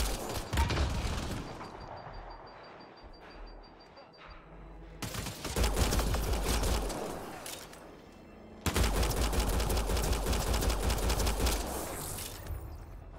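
Gunfire in the video game Mass Effect Andromeda: loud bursts of automatic weapon fire in several sustained volleys, with a brief lull between them, up close and dominating the mix.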